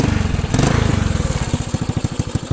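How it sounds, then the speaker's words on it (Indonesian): Close, loud Honda Astrea Grand motorcycle engine running, with a quick, even thumping idle rhythm and a brief louder surge near the start. "Untuk suara mesin tetap adem dan anteng, tidak ada suara kasar lagi di bagian headnya."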